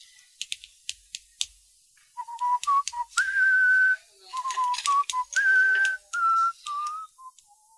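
A short whistled melody for a new song, clear and close, with sustained and stepping notes behind a scatter of clicking taps.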